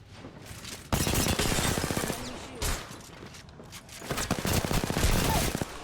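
Rapid bursts of gunfire in a video game aimed at the player, loud crackling volleys starting and stopping in clusters, with faint speech mixed in.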